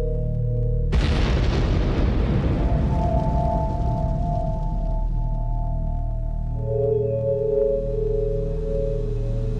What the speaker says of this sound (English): when they ignited the fuel, they found that the blast was three times the force needed